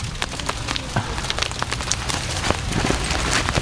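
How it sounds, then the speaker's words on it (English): Hail coming down outdoors, a dense, steady patter of small hard impacts on surfaces with scattered sharper clicks, fairly close and building slightly in intensity, with no talking. "Oh, that's hail. Oh, it's coming down."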